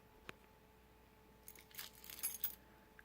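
A ring of keys hanging from a homemade Kydex pocket clip rattles and jingles in short bursts, faint and close, with no voices.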